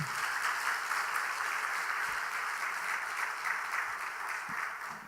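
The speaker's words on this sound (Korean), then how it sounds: "다시 한번 박수 한번 하십시다" A church congregation applauds together during a Wednesday evening worship service, steady sustained clapping filling the room for several seconds with no talking over it.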